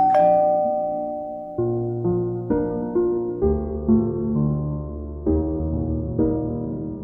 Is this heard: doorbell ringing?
yes